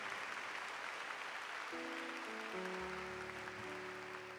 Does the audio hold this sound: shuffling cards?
no